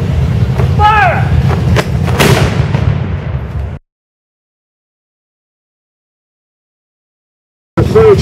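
Ceremonial cannon salute at Litchfield for the Fourth of July: a shouted command, then one loud, close boom that cuts to silence before noise returns at the end.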